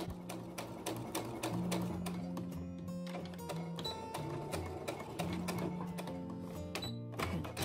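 A sewing machine stitching a topstitched side seam pocket, fast rhythmic mechanical clatter in bursts with short pauses, fairly quiet and without talk.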